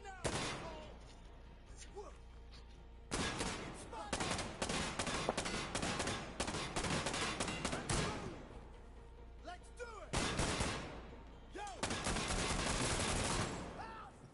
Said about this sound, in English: he has a light machine gun